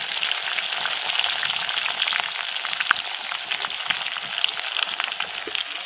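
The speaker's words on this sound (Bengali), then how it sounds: "এবার আমি পেঁয়াজটা দিয়ে দিচ্ছি" Onions, 250 grams, sizzling and frying in hot oil in a pan for a chicken curry, a steady crackling hiss with small pops throughout, close and moderately loud, with no talking.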